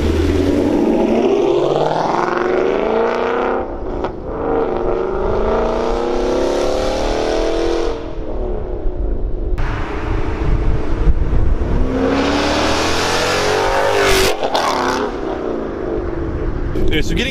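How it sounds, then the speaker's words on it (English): A 2016 Mustang GT with a Corsa Extreme catback exhaust rumbles and revs inside a tunnel, loud deep engine swells rising and falling with echo, while someone talks over it. "I feel like this exhaust setup is the best representation of what this engine can sound like."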